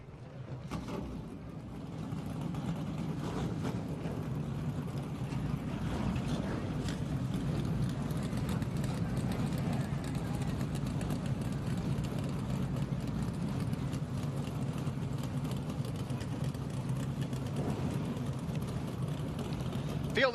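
A field of 19 race cars fires up on the front straightaway at Seekonk Speedway, with a loud, sustained, rumbling engine drone that starts after about a second and holds steady throughout.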